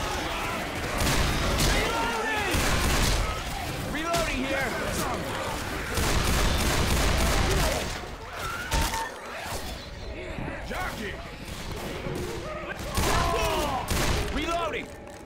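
Gunfire in the zombie shooter Left 4 Dead 2, a near-continuous loud barrage of rapid shots and crashes over several seconds, with players' voices talking over it.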